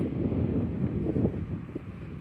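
Gusty wind buffets the microphone with a continuous low roar and rumble, loud and close throughout.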